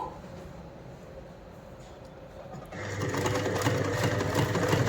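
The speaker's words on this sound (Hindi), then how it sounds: "और फिर यहाँ से पीको करती हूँ, तो जो सिलाई जो है वो पक्की बैठ जाएगी।" Sewing machine stitching pico and fall onto a saree, kicking in partway through as a close, steady mechanical whir that continues to the end with no talking.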